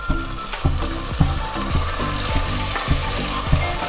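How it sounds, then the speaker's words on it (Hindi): Onions and tomatoes frying in a pan, a loud, close sizzle with rhythmic stirring strokes about every half second and no talking. "इसको अच्छे गोल्डन ब्राउन होने तक फ्राई करेंगे"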